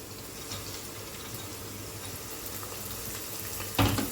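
Onions and freshly cut green chilies fry in a pan for chicken biryani, giving a steady, even sizzle throughout with a short louder burst near the end.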